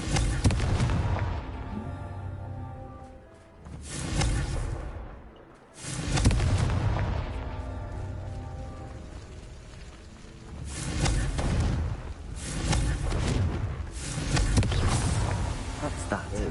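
Repeated fiery blasts from the Confringo spell in Hogwarts Legacy, loud booming bursts arriving in several waves with short gaps between them.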